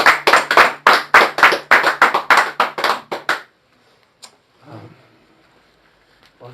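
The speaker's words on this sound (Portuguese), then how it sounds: "Você pode dar um aplauso a Jesus?" A church congregation at a Portuguese-language worship service claps in a steady, fairly fast rhythm for about three seconds, loud and close. It then stops abruptly, and a few faint scattered sounds follow.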